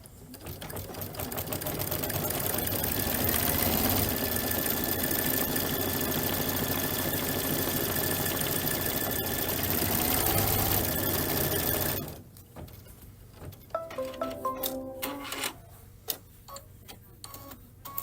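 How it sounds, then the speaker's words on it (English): A Kimberbell embroidery machine stitches a color stop on a paisley belt bag design, a loud, steady mechanical whir with fast rhythmic needle ticking that runs continuously for about twelve seconds, then stops, leaving clicks and handling noises. "I'm going to sew this next color stop"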